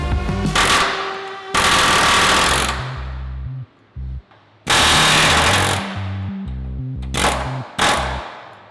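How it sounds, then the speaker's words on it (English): A pneumatic air hammer blows rivet heads off and punches rivets out of a Toyota Tacoma frame, in loud bursts of rapid machine-gun hammering separated by short pauses and quick stuttering taps. "we're actually gonna use an air hammer to blow the rivets off and punch them out"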